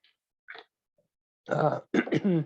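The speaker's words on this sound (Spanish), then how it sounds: "tengo un poco de tos" A short, muffled cough is followed by a brief, throaty clearing sound, then a few more rough coughs close to the microphone.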